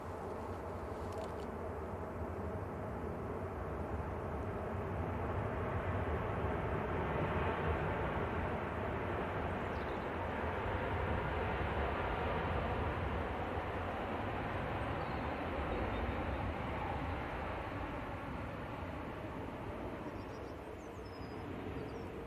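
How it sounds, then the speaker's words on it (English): A jet airliner at Manchester Airport produces a steady, broad engine roar that holds for over twenty seconds at a moderate distance, unbroken and without voices. "Stunning aircraft."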